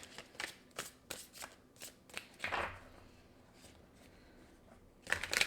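Tarot cards are shuffled close by in quick riffling bursts, a series of soft papery flicks and a longer rustle, then a brief pause before a sharper final flurry of cards.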